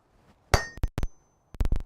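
A hammer strikes hot metal in a smithy, a quick series of ringing metallic blows in two bursts, close and loud with bright clanging tones and no talk.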